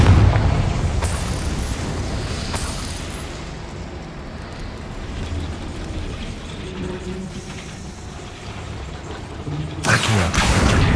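Confringo blasting spell in the Hogwarts Legacy video game on PS5: sharp blasts at the start and the end frame a long, loud rumbling roar of explosion and debris.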